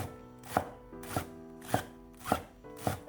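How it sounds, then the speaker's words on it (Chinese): A knife chops Chinese chives on a cutting board, with five evenly spaced, crisp thuds landing about every half second, close and clear. "放到案板上，将韭菜切碎"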